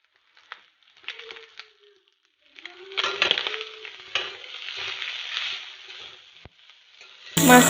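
Small fish, already half-fried, frying in a pan with ginger leaves: irregular sizzling and stirring scrapes that build from sparse bursts into a steady crackle, with a few sharp utensil knocks near the end.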